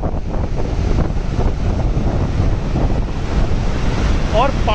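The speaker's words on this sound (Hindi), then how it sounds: "जो पानी डैम के गेटों से छोड़ा जा रहा है, ये देखिए आप" Steady, roaring rush of heavy water released through all 22 open gates of Bargi Dam, Jabalpur, heard from atop the gates, broad and continuous throughout, with a faint voice near the end.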